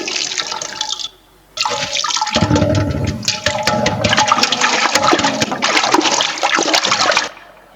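Water is poured and splashes loudly for washing during an onstage school gathering play, a sustained gushing and splattering with one brief pause, ending abruptly.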